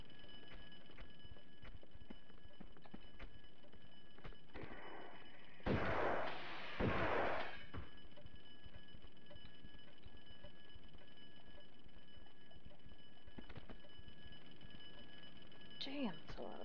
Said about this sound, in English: Damn, that's a lot of bombs.